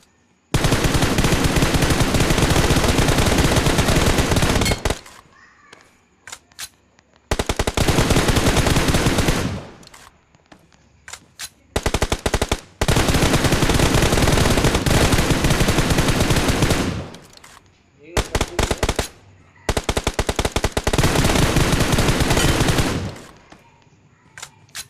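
Automatic weapon fire in the PUBG Mobile video game: loud, dense bursts of rapid gunshots lasting several seconds each, separated by brief quiet gaps and a few short isolated volleys.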